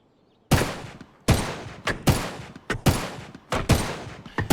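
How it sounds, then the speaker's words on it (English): Gunfire in the zombie survival game Humanitz: a string of sharp, loud shots in uneven bursts, each cracking out with a short echoing tail, roughly seven blasts over a few seconds with no talking. "It's not going to freak me out every time I hear gunfire from over this way."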